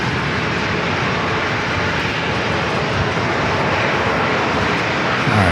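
An Alaska Airlines Boeing 737-800 departs San Diego airport bound for Chicago, its jet engines producing a loud, steady, broadband roar that holds throughout.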